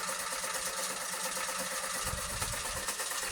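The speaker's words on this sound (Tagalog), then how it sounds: "Maingay guys. Yung electric fan guys na ceiling fan." Constant droning whir of a ceiling fan with a low mechanical hum, steady throughout and fairly close.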